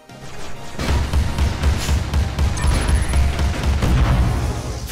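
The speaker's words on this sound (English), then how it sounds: "That was a really big explosion." A big explosion in the video game Ghost 1.0, a loud sustained boom with heavy low rumble and crackling debris that swells in after a short quiet lead-in and rolls on for several seconds.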